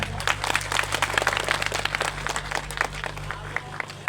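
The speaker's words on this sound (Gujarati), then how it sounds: "જોરદાર તાળીથી જાય" A crowd at a tribal community gathering in Gujarat applauds to welcome a guest, with steady rapid clapping of moderate loudness throughout.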